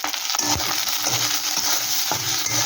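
Shrimp frying in a pan for a shrimp and pointed gourd mash: constant loud sizzling with intermittent scraping and knocking from stirring, close and continuous, no voices.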